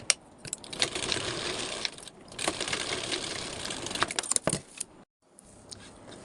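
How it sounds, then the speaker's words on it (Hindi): A sewing machine runs in bursts while stitching the lining fabric of a work blouse, its close, steady mechanical whir broken by brief pauses, a quick clatter and a short silence near the end. "जोड़ के मतलब सिलाई चला के मैं आपको दिखाती हूँ कि मैंने सिलाई कैसे चलाया"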